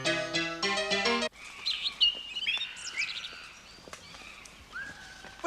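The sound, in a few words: racing bird chirping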